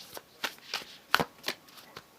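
Oracle cards being shuffled in a few quick riffles and taps, crisp and close, with short pauses between bursts.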